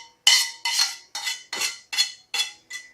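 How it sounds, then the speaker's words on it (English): Stainless steel tongs scrape across a stainless steel pan while cooking shrimp scampi, making seven loud, harsh metallic scrapes in a steady rhythm, close up and with nothing else heard. "If you're using a stainless steel pan and stainless steel tongs, it's okay to, it's loud and obnoxious"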